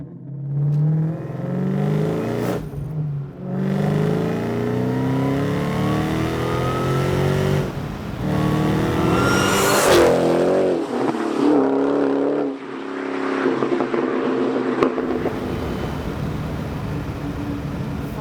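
Supercharged 700HP Mustang Terminator Cobra engine revving loudly, rising and falling with a high supercharger whine sweeping up over the deep exhaust roar, close by and sustained throughout.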